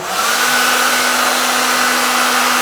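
A heat gun blows steadily while warming a vinyl graphic on KTM motorcycle plastic, a continuous loud whooshing hiss with a constant hum, close and alone with no talk.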